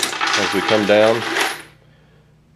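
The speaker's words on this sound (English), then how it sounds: "that noise you heard was the case feeder feeding another case" Hornady Lock N Load AP reloading press with a case feeder dropping a brass case, a short metallic clattering jingle heard close under a voice, then quiet.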